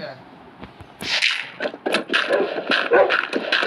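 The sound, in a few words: dogs in Minecraft video game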